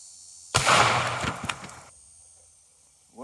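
A single sharp handgun shot fires a Hornady Critical Defense self-defense bullet from a short barrel under 3 inches, a loud close crack with a ringing tail lasting over a second before fading to quiet.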